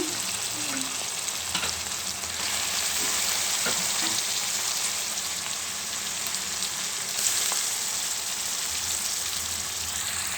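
Mutton pieces sizzle in a pan over softened onion and tomato pieces, with a steady broadband frying hiss and occasional stirring clinks, fairly loud and close, with no talking.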